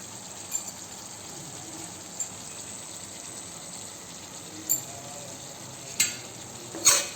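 A paste of narasingha leaves fries with kuchia eel in a pan, giving a soft, steady sizzle with a few sharp pops and scrapes near the end.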